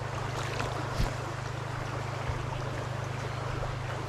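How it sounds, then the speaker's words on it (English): Wind blows steadily outdoors near a tree, producing a constant low rush and rumble against the microphone with a couple of brief gusty thumps and no talking. "Wind blowing like a kite."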